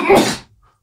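A single close, loud sneeze bursts out and fades over under a second, followed by near silence before a faint sound at the end.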